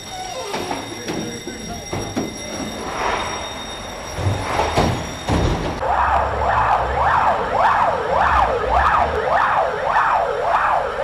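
A fire engine siren wails in a steady rising-and-falling cycle, loud and close, entering about halfway through after clattering noises and bits of background talk.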